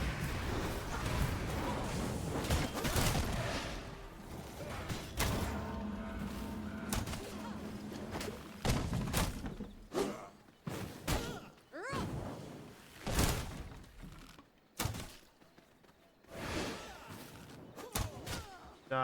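Heavy thuds, slams and crashing impacts as a bear-form character smashes through breakable obstacles in World of Warcraft, a series of loud irregular hits with whooshes between them.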